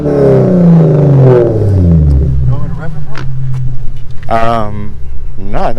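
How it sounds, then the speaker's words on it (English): A Lexus RC350 fitted with PPE headers revs loudly up close, its raspy exhaust rising and falling in the first couple of seconds. Someone then talks over the idle. "raspy noise, and it sounds horrible"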